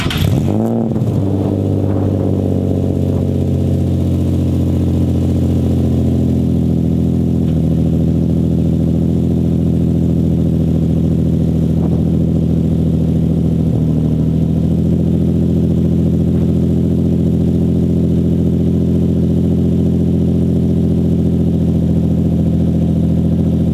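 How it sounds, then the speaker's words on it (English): An Infiniti G35 with straight-piped catless exhaust, Z1 Motorsport catback and Y-pipe, cold starts with a sharp crank and rev flare, then settles into a loud, steady, droning idle. "This is gonna be an official cold start to the car."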